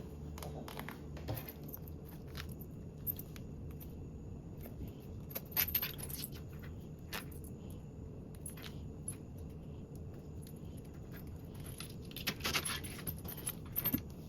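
Zippers and small metal pulls clink and rattle while being handled for sewing a toiletry bag, scattered light clicks and jingles over a steady low room hum, close and fairly quiet, with no talking.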